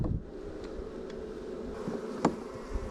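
Honey bees hum steadily inside an open beehive full of queen cells, a continuous close buzz with a few brief louder passes of individual bees near the listener.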